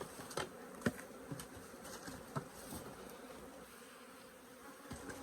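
Bees flying around a hive during colony splitting, a faint continuous buzzing hum with individual insects passing close by in brief louder swells.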